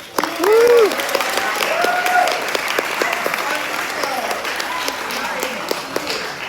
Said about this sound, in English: can we just have a huge round of applause?